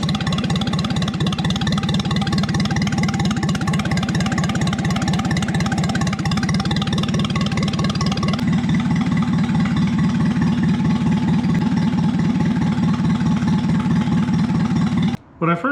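Small flathead engine running in reverse, a steady mid-pitched chugging idle that stays loud and continuous, cutting out abruptly just before the end.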